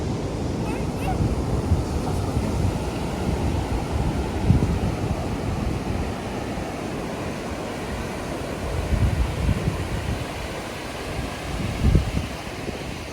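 Ocean waves and wind roll steadily along Puri beach, a continuous loud wash of surf with gentle swells and a rumbling low end throughout, with no clear voices.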